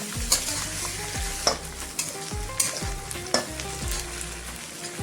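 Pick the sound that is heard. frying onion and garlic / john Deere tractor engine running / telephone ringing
frying onion and garlic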